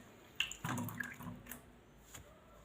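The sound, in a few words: washing potatoes in water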